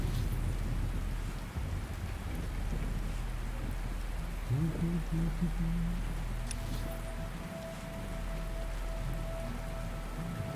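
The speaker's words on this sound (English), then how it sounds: "Ooh, look at the rain." Steady heavy rain patters throughout a rainstorm in the Star Wars: The Old Republic video game, with a low rumble of thunder beneath it and a faint tone joining partway through.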